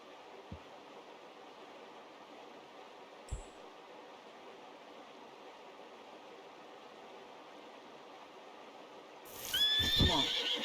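A horse in the Red Dead Redemption 2 video game lets out a loud whinny near the end, after long quiet outdoor ambience broken by a couple of soft thuds.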